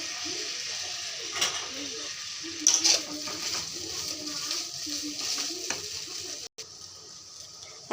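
Chow chow noodles stir-fried with fried potato and soy sauce in a pan, a soft steady sizzle with occasional stirring scrapes and clatters, fairly close and continuous.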